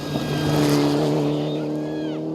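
A Mitsubishi Lancer Evo 9 rally car with brake problems at the 2015 KCB Kisumu Rally roars past with a steady, loud engine drone whose pitch swells and then bends at the end.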